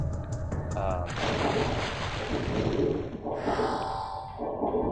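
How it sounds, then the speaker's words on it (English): Shotgun blasts firing explosive shells in the video game Turok, heavy booming bursts layered with dense game effects and a continuous rumble. "For example, explosive shells with a shotgun."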